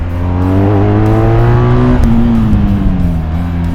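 A BMW R1250GS Adventure 2019 motorcycle with Brembo brakes braking hard, its engine note dropping steadily in pitch, loud and close, with no talk.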